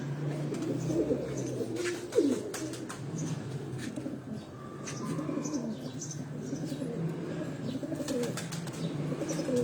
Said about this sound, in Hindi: ये वो चपड़ा कबूतर आपको दिखा रहा है हीरा